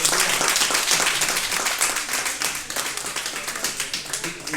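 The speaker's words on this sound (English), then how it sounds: "And then a round of applause for Arthur." Audience at a talk on the future of work applauding, a lively continuous patter of many clapping hands at fairly close range, steady from start to finish.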